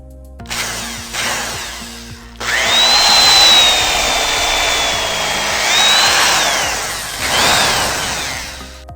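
A power drill bores a 16 mm hole through a hotel door for a lock, with a short burst first and then a long whining run that rises and falls before stopping and starting again, loud and close.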